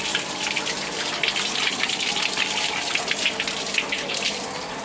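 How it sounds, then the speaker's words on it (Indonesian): Water runs steadily over a kris blade as detergent is rinsed off during a traditional keris-washing ritual, a continuous close splashing gush with no voices. "Air mengalir."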